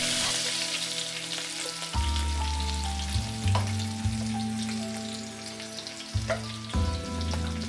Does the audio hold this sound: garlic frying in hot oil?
yes